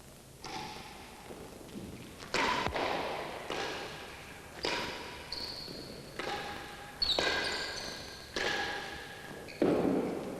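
Squash rally at the 1994 Laurent-Perrier Masters: a ball cracks off rackets and thuds off the court walls in a quick regular series of sharp, echoing impacts, each ringing briefly in the hall.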